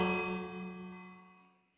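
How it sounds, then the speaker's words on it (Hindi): A village bell in the Minecraft video game rings once, a bright metallic strike with a long shimmering decay that fades out over about two seconds, heard alone. "ये तो घंटी की आवाज सुन के तुरंत घर के लिए भागते हैं"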